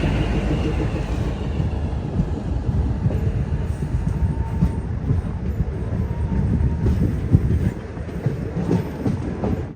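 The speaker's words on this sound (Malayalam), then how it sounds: "ട്രെയിൻ ഇപ്പൊ അവന്തിപ്പുറ സ്റ്റേഷനിൽ എത്തിയിരിക്കുകയാണ്." A passenger train on the Banihal to Srinagar line in Kashmir rolls into Avantipura station during snowfall, heard from inside as a loud, steady low rumble with rhythmic wheel clatter, easing slightly toward the end.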